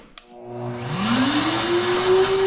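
A Giraffe Tools wall-mounted garage vacuum switches on with a click, its motor whine rising in pitch as it spins up to a steady, loud, close roar with no talking.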